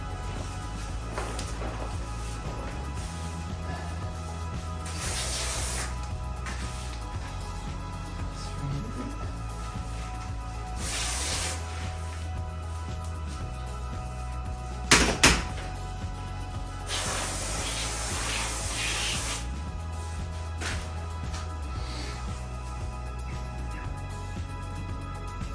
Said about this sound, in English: Give it a quick spray.